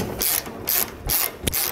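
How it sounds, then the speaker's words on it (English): A socket ratchet clicks while turning a nut on a Blue Ox base plate on a 2022 Buick Encore GX, close up, in four short bursts of rapid ratcheting. "this one's so close you can probably come back with a socket and start to turn it"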